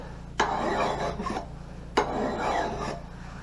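Two slow rasping strokes of a file drawn across the edge of a splitting maul, each a gritty scrape lasting about a second, close and clear with no talk.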